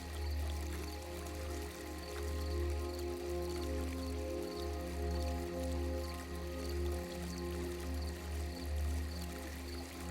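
A water fountain trickles and splashes steadily in a calm outdoor setting, a soft, continuous flow with gentle fluctuations and a low, humming undertone throughout.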